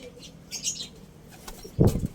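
Pigeons' wings flap nearby in two short bursts, a softer flutter followed by a louder, closer flurry.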